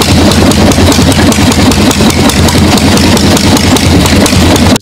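A single-cylinder two-stroke marine engine, once left in a scrapyard for two decades, runs loud and close with a rapid, even pulsing beat before cutting off abruptly at the end.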